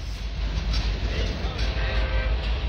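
Norfolk Southern freight train with mid-train DPU locomotives, a steady loud rumble of rolling cars with low engine drone close by, continuous throughout, with faint rail clatter.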